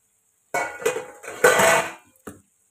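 A steel plate used as a lid is lifted off a pot of cooking yellow pumpkin with a few sharp metallic clinks and scrapes. The clatter is brief and close, and there is a quieter tap at the end.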